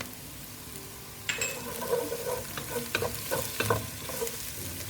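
Chili and spice are sautéed in a pan with vegetables, a quiet frying hiss that jumps to louder sizzling once added, followed by several sharp scraping, stirring clicks, close and with no speech.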